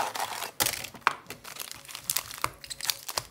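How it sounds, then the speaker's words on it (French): A trading card display box is opened by hand, producing close, bright crinkling and tearing of cardboard and plastic wrap in quick, irregular bursts. "allez, on ouvre la première display"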